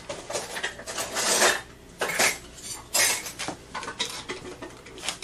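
A fork or spoon clinks and scrapes against a cup of turmeric ginger honey tea in a run of close, bright metallic taps and rubs.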